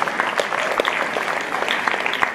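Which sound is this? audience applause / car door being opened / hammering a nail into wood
audience applause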